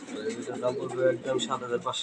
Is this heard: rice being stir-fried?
no